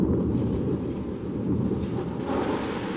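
Thunder from a lightning storm, a low, continuous rumble that holds steady and heavy, with a hissing wash like rain over it.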